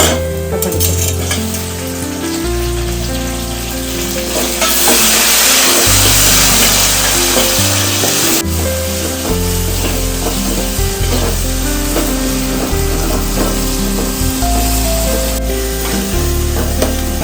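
Onions sizzle and hiss in a hot pan for fish curry under steady background music, the frying louder in the middle stretch.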